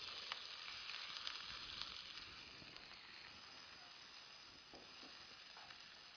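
Chopped onion sizzles steadily in hot oil previously used for frying fish, a soft continuous hiss and crackle with faint stirring clicks, close and quiet, with no voices.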